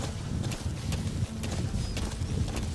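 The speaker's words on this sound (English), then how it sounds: "Square to speed up horse" Horse hooves clip-clop at a steady trot in Metal Gear Solid V: The Phantom Pain, set in Afghanistan, a close rhythmic thudding over a windy outdoor ambience with no talk.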